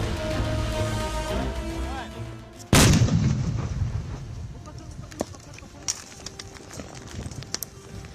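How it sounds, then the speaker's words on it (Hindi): Controlled detonation of an unexploded Pakistani mortar shell near the international border sends one sharp, loud blast that cuts through a bed of outdoor noise and birds, followed by a rumbling decay. "बिल्कुल कंट्रोल्ड डेटोनेशन से उस UXO या उस विस्फोटक को पूरी तरह से ध्वस्त कर दिया गया है।"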